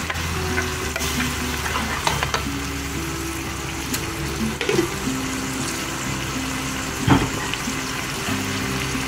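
Onions fry in oil with a steady sizzle under background music, joined by occasional stirring scrapes and a brief louder clatter near the end.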